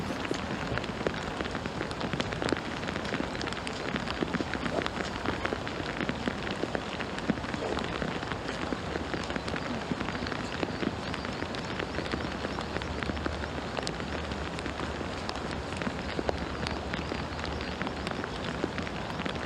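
Steady rain falls across a golf course fairway during a women's professional tournament, a constant soft hiss with dense scattered drop patter throughout and nothing else standing out.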